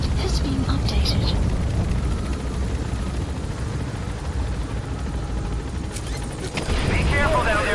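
An enemy helicopter in a Metal Gear video game throbs with steady rotor noise under a loud game soundtrack, with bursts of gunfire-like crackle and a sharp effect near the end.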